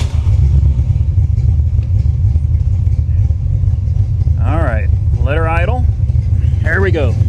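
A 1989 Ford Mustang GT Foxbody V8 idles steadily close by, a deep continuous rumble throughout, while someone speaks briefly over it near the end.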